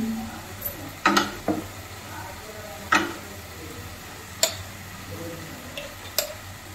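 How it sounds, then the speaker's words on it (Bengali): A spoonful of ghee added to carrot halwa and stirred in a pan, giving a low sizzle under repeated sharp ladle taps and scrapes against the metal at irregular intervals. "তো আমি এর মধ্যে এখন ঘি অ্যাড করে দেবো। দিয়ে দিচ্ছি 1 চামচ ঘি।"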